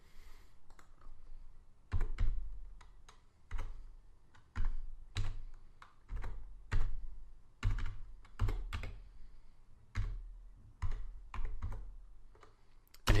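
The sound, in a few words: typing a password on a computer keyboard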